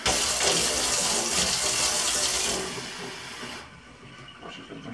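Water runs from a tap into a cooking pot for a pasta sauce with green vegetables, a loud steady splashing rush that softens and then stops near the end.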